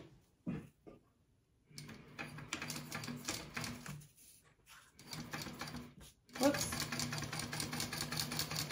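A sewing machine top stitches a fold on a ladies' wallet in bursts of rapid, even mechanical stitching, pausing between runs with a few clicks, while someone talks over parts of it.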